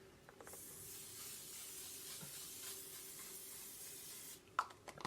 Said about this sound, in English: I'm gonna go ahead and use my One Side matte setting spray